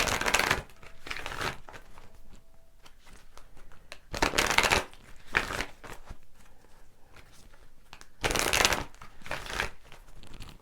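Tarot cards are shuffled in three bursts of crisp riffling, each followed by quieter handling and faint rustling, close and clear with no talking.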